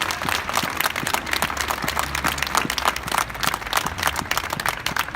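Protest crowd of yellow-vest demonstrators in Bergerac, France applauding outdoors, a loose, uneven scatter of individual claps with distinct hand strikes, moderately loud and continuous over a low rumble.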